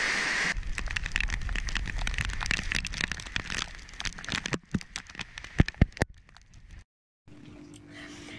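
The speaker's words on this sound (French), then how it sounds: "C'est bien de la pluie puis bien de l'eau!" Rain patters steadily with scattered close drips and taps, louder sharp drops clustering toward the end before a brief silence and a quieter tail.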